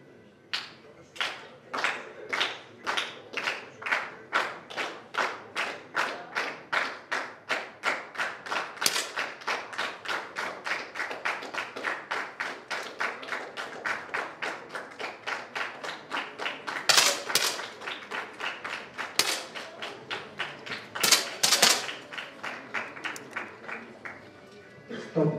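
Pistol shots at a youth championship bronze match, dozens of sharp cracks in a fairly regular, rapid cadence that cluster and overlap near the middle, with an announcer talking over them.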